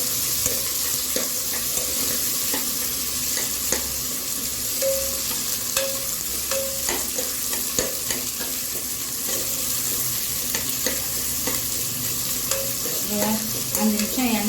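Ivy gourd pieces sautéing in hot oil in a pan, a loud continuous sizzle with intermittent stirring and scraping of a spoon, close up, with no voices.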